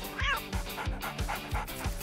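A dog in a supermarket gives short whimpering yips and whines in a repeating rhythm, close by, with other sounds faintly underneath.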